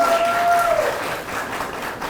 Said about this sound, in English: Y'all gotta get better with the claps.